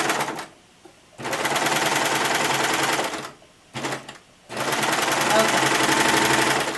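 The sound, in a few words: sewing machine stitching a French dart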